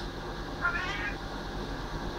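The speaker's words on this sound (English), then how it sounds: "Are you meowing at me about cleaning out the litter box?" A house cat meows once, briefly and fairly faintly, over a steady low indoor hum, with no talking.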